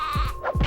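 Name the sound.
billy goat bleating in Spyro: Year of the Dragon video game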